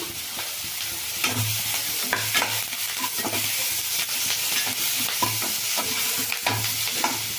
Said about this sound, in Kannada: ಈಗ ಇದೆಲ್ಲ ಚೆನ್ನಾಗಿ ಫ್ರೈ ಆಗಿದೆ